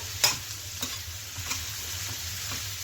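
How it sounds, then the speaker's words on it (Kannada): Onions fry in plenty of oil in a pan on a medium flame for an egg gravy, a quiet continuous sizzle with a few soft stirring scrapes and taps and no voices. "ಈಗ ನೋಡಿ, ಈರುಳ್ಳಿ ಚೆನ್ನಾಗಿ ಫ್ರೈ ಆಗಿದೆ ನೋಡಿ"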